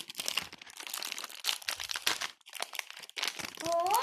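A plastic wrapper on a packaged jelly snack crinkles and rustles in quick, irregular bursts close by, with short pauses and a brief squeaky tone near the end.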